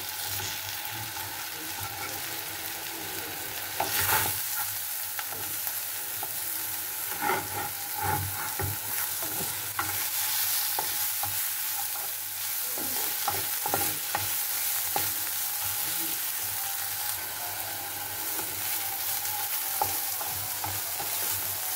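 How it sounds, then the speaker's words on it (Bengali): Black cumin seeds fry in a pan with leafy greens for a mashed bharta, giving a soft steady sizzle with repeated scraping stir strokes of a spatula, close and continuous with no talking. "কালো জিরাটাকে আমি হালকা আছে একটু ভেজে নিচ্ছি।"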